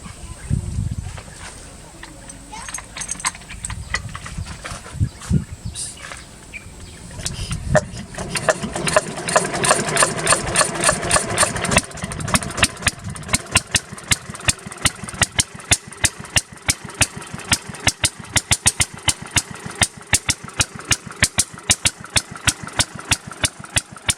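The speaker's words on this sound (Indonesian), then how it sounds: "kita akan coba hidupkan mesinnya, mudah-mudahan langsung hidup" A small engine on a durian orchard is started and settles into idle, first rough sputtering and revving, then a fast steady ticking chug that continues close by; voices talk briefly near the start.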